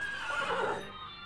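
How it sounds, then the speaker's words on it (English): A stage sound effect of horses neighing in a theatre production of Julius Caesar, one shrill whinny that rises and then fades, heard clearly on its own with no speech. "Horses did neigh"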